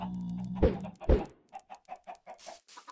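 Chickens in Minecraft VR make two loud close flaps or thumps followed by a steady string of short, regular clucks, with no talking.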